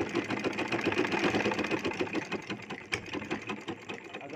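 Sewing machine running in a repair setting as cloth is stitched beneath a presser foot, giving a steady, close mechanical whir with rapid needle ticks throughout, a single sharp click near the end.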